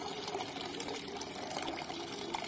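Tap water running and splashing steadily as a dog paws and plays in it at an open faucet, a continuous close wet rush lasting a few seconds with no talk.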